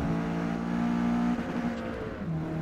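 Race car in Forza Motorsport accelerating hard, its engine holding a loud, steady high-revving drone before briefly dipping and rising again as it shifts, close and without talk.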